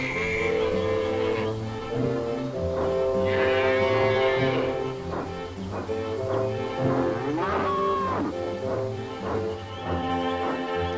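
Several cattle moo repeatedly, long low drawn-out calls overlapping one another, close and loud over a steady background.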